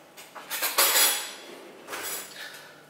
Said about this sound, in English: Let me just grab a spoon.